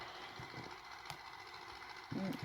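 A tractor engine in Farming Simulator 22 hums steadily at a low, faint level, with a slight rise in loudness near the end and no speech.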